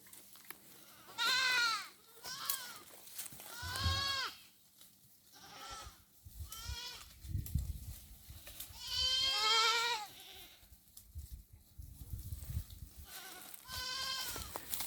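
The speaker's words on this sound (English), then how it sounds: "So you can see our goats now. They're just browsing." F1 and pure Boer goats bleat repeatedly outdoors while browsing after weaning, several loud, wavering calls from different animals spaced across the scene, some near and some farther off.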